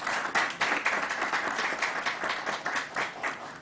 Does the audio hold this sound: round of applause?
yes